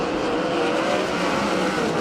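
USAC 360 sprint cars racing at a speedway make a continuous loud engine roar, a dense steady drone without breaks.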